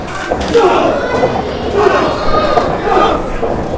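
Loud indoor crowd at an independent pro wrestling show, a dense wash of shouting and chatter filling the room steadily with a commentator talking over it.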